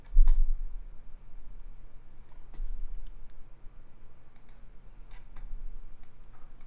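Light, crisp computer mouse clicks come one at a time at irregular intervals over a low background hum while Discord is being closed on a desktop.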